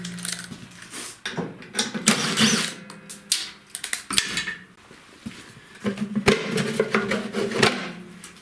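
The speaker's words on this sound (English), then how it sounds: "There's two 3/8 head bolts here to get this off." Bolts being removed from the belt cover of a seized Tecumseh snowblower engine, with repeated metallic ratcheting clicks, clanks and tool handling in short bursts, close and moderately loud.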